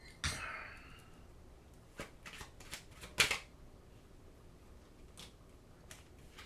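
A deck of tarot cards is shuffled with a sharp riffle burst near the start. Quieter flicks, taps and slaps follow as cards are drawn and laid down one by one. It sounds close and soft, with no talking.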